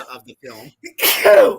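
A single sharp, loud sneeze bursts out right after a few spoken words, close and abrupt, trailing off briefly.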